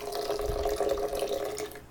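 Water poured into a blender while making a raw sunflower seed creme parfait: a steady, close splashing pour that runs for about two seconds without a break, with no talk.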